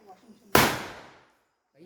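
A Diwali firecracker bursts with a single sharp loud bang that fades over about half a second, and people talk faintly before and after it.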